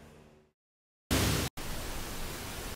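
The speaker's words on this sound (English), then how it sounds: "look up samples of pink noise." A pink noise sample plays as a loud, steady broadband hiss, starting abruptly after a short quiet gap, cutting out for an instant and then resuming.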